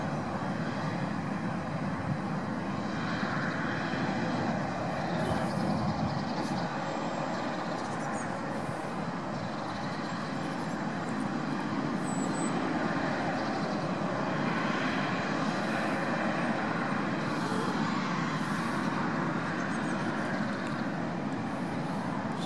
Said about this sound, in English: Is there another plane coming?